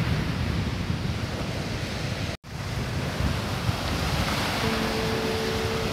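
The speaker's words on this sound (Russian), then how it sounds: "Успокоилось Азовское море, но стало мутное." Waves of the Sea of Azov wash steadily onto the shore, a loud continuous surf roar with wind rumbling across the microphone, broken by one brief dropout partway through.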